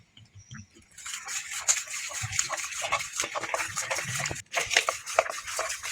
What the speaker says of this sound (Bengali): ছোট স্পুন নিয়ে আমি ফাটছি